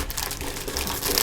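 Large plastic bag crinkling continuously as taped toy display pieces for a Kamen Rider driver collection are unpacked, a steady close rustle with no talk.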